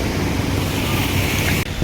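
Floodwater runs in a steady loud roar after a heavy downpour in Tharad, Banaskantha, a constant rushing wash with wind buffeting the microphone and a brief dip near the end.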